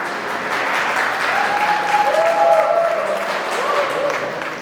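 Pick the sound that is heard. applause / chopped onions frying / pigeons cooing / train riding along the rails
applause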